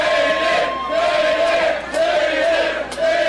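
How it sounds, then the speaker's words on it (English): A crowd at a boxing match chants in rhythmic, repeated swells, loud and close, the voices rising and falling in a steady cadence. "Here the crowd is chanting Hayden Jones."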